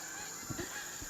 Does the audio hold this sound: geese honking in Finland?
yes